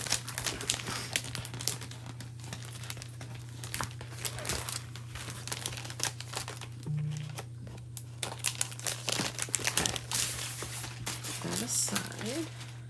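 Close, irregular crinkling and rustling of a paper transfer sheet being handled and cut up with scissors, with occasional tearing or snipping sounds over a steady low hum.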